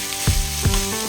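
Tomato and curry leaves hitting hot oil in a pan, giving a loud, close sizzle with two sharp bursts of crackling as pieces drop in or get stirred.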